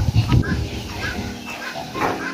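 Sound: pigs on a farm

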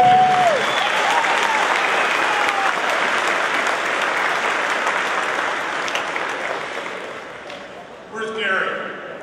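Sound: audience applause at judo tournament

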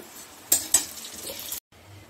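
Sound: tempering spices (phoron) frying in oil

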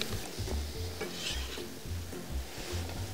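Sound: onions frying in fat in a pan

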